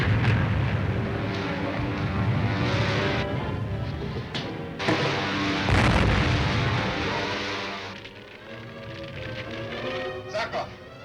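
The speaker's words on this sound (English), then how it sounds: "There was an explosion." Explosions boom heavily from falling projectiles in a 1940 science-fiction serial, with sustained rumbling blasts, and people talk loudly over the din.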